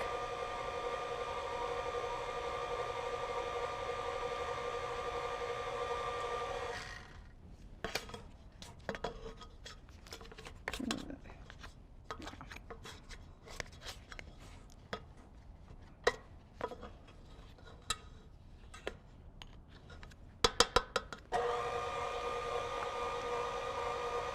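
An electric mixer whirs steadily as it mixes dough, a close tonal drone that stops for a stretch of clicks and knocks and then starts again, with no talking.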